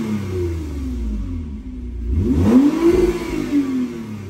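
A Toyota Camry V6 with a Magnaflow exhaust idles with a low rumble, then revs up sharply and settles back, a throaty exhaust growl up close.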